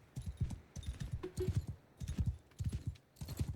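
Rhythmic clip-clop of horse hooves in the medieval battle game Mount & Blade II: Bannerlord, several close, steady bursts of hoofbeats with brief pauses between them.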